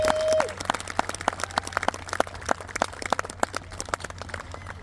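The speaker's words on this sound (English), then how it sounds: "give them one more round of applause for all the hard work they've done" Scattered applause for a school jazz band: a modest number of separate hand claps, fairly close and uneven rather than a dense roar, thinning out toward the end over a steady low hum.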